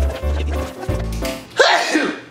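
A single sharp sneeze bursts out after some low murmuring and rustling nearby.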